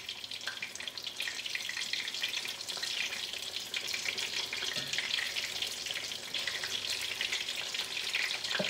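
Fish fillets splashed with beer fry in a pan, giving a steady, dense hiss of bubbling oil that runs evenly throughout, close and moderately loud, with no talk.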